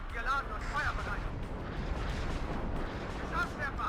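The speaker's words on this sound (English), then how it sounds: "Immediate response, just an absolute massive artillery." Massive artillery barrage in the war game WARNO, deep rumbling booms and blasts rolling together almost continuously, with a voice talking over the gunfire.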